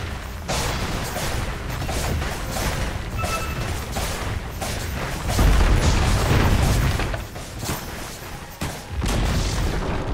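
Dota 2 match with the Dire's top tower under attack and falling: continuous booming impacts and rapid crackling bursts, loud and steady, with a heavier thump midway and no talk.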